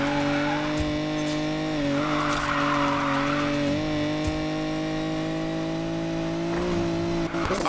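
A car drifting in the racing game Need for Speed Payback, tires squealing steadily over a loud, droning engine note that rises and dips with revs throughout, close and continuous with no talk.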